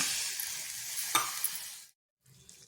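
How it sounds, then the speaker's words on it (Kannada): A spoon works through rice flour dough in a bowl, giving soft continuous scraping with one sharp tap midway, then silence and a faint resumption. "ಇವಾಗ ಚಮಚದಲ್ಲಿ ಕಲಿಸ್ತಾ ಇದ್ದೀನಿ"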